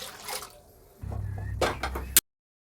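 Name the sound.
pouring water into lentils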